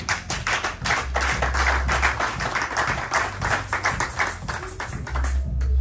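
A church congregation claps along in a steady rhythm, many hands striking close and loud in quick, even beats that continue throughout, with a low hum underneath and no talking.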